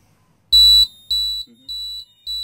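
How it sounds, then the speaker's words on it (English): A fire alarm triggered by opening a door sounds as loud, repeated high-pitched electronic beeps, four pulses with short gaps, close and alone. "to test the fire alarm is to simply open the door. And it will set off the alarm."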